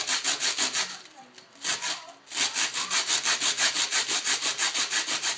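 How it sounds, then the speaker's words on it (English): A small cut piece being rubbed back and forth across sandpaper to round it, a steady run of rhythmic rasping strokes, close and fairly loud, with a brief pause before the strokes resume evenly. "Run it across your sandpaper until you get it circular."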